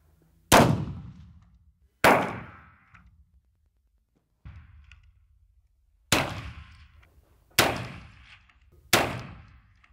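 Live-round rifle shots at a military shooting practice, six sharp reports spaced a second or two apart, one much weaker, each with a short decaying echo against silence.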